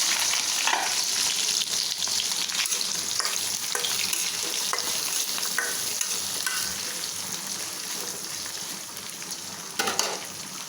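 Fish marinated with turmeric, chili and salt fries in hot oil, a loud continuous sizzle and crackle that stays steady throughout, close up with no voices.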